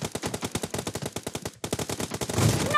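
Rapid automatic gunfire in the video game PUBG, a dense run of sharp shots with a brief pause midway, then more bursts and a trailing rumble, loud and alone without talk.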